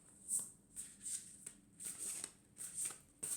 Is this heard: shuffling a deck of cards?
yes